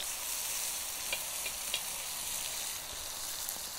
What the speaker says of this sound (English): I'm just going to sear these over the coals